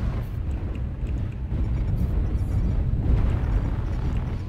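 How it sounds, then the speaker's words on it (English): Artillery strike explosions from MechWarrior Online rumble as a continuous deep, heavy roar of overlapping blasts, loud and sustained throughout with no clear gaps between impacts. "Artillery strike."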